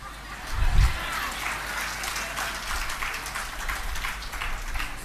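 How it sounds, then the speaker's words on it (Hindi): An audience at a religious discourse applauds in a steady, dense patter of many hands clapping together, with a low thump early on and continuing evenly to the end. "ताली कहां के लिए बजाई?"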